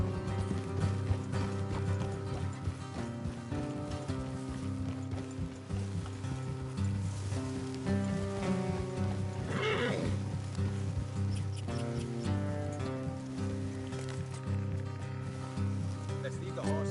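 Horses in the Red Dead Redemption 2 game, with hooves clopping and a whinny partway through, set against a steady game soundtrack and ambience at moderate level.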